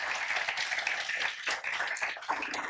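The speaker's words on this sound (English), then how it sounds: "one more round of applause" Audience at a Rust programming meetup in Berlin claps for a speaker, with a dense, continuous round of applause that stays fairly soft and distant throughout.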